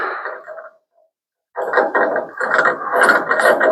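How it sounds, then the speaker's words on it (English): A ratchet wrench clicking as it turns on a rack and pinion bracket, a brief burst, a pause, then a louder sustained run of rapid close metallic ratcheting, with no speech. "Here's another wrench."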